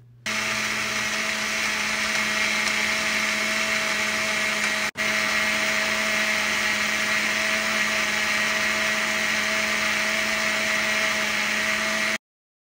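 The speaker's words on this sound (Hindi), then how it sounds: "अब आप इसको अच्छी तरह से ग्राइंडर में ग्राइंड कर लें" A mixer grinder blends a mint margarita drink, a loud steady motor whir running for about twelve seconds with a brief dip partway through, alone and close.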